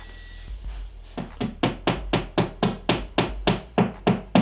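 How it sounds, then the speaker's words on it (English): Steady hammer blows driving wall anchors into drilled holes, about a dozen sharp knocks in an even rhythm, close and fairly loud, with no talking. "So now we're gonna insert these bad boys with a hammer."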